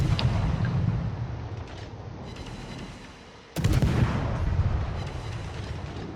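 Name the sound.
naval gunfire from a battleship in World of Warships video game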